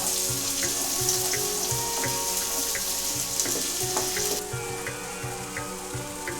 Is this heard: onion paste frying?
yes